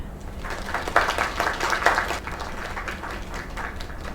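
A video game crowd applauds with dense clapping that swells briefly, then thins out into scattered claps.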